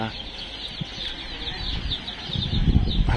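Gamecocks and roosters in a yard give off scattered clucks and brief bursts of wing-flapping, rising toward the end, with a voice talking nearby.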